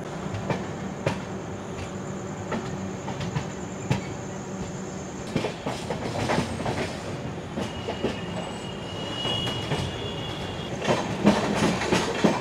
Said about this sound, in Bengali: এই যে ট্রেন বুবুকে ধানবাদে রেখে চলে যাচ্ছিল